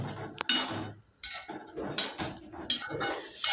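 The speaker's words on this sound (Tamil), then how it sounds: "எல்லாம் கிண்டுங்க" A metal spoon stirs chicken and salt in a cooking pot, giving irregular scraping clinks and knocks in short bursts with brief pauses between them.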